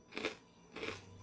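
Two quiet crunches as teeth bite into a charred grilled rib, close and soft, about half a second apart in an otherwise quiet room.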